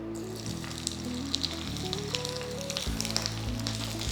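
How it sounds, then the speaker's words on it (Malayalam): Coconut pieces frying in hot ghee in a pan, a steady, close crackling sizzle that runs throughout over a sustained tonal background. "നന്നായിട്ടൊരു ഗോൾഡൻ ബ്രൗൺ കളർ ആകുന്ന വരെ നന്നായിട്ട് മൂപ്പിച്ചെടുക്കുക"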